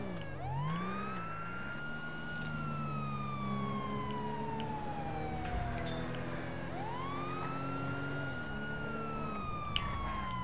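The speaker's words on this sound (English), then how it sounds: "I hear sirens." Police sirens in Grand Theft Auto V online police roleplay near the Paleto Bay police station wail continuously, sweeping up and down over a steady engine drone, with a short sharp burst partway through.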